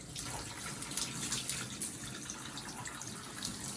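Water streams continuously from a tap or hose as a dog is wetted down in a home bath, a close, steady rushing gush with no break across the few seconds.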